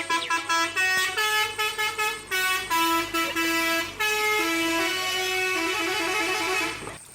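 Toy cement mixer truck playing a telolet horn melody: a run of bright, tuneful honking notes in quick rhythmic bursts, close and loud, lasting several seconds before cutting off.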